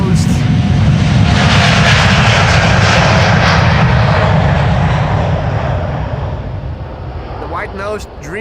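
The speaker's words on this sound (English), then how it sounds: "Dreamliner now going to Jerry's hometown of Portland in Oregon" A Delta Boeing 787 Dreamliner departs Amsterdam Schiphol Airport, its loud close engine roar sustained and then slowly fading as it climbs away.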